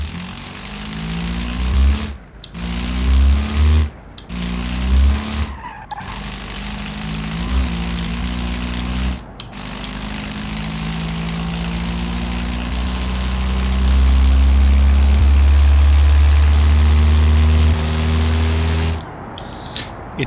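A diesel four-cylinder engine in the Automation driving game drones steadily and loudly under acceleration, with rising pitch through several gear changes and brief dips between shifts, alone without speech.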